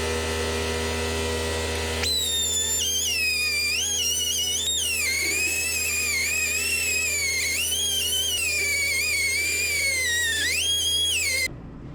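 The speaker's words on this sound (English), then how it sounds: "I'm going to chamfer these holes in the fuel cell straps because I can't dimple die this thick of a material like I thought" A drill chamfers holes in thick metal fuel cell straps for an RX7, its high whine rising and falling in pitch through one long continuous cut over a steady background hum, close and loud, with no talk.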